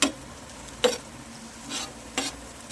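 A spoon stirs butter garlic paneer in a hot pan, giving a few separate scraping strokes over a soft, steady sizzle with no voices.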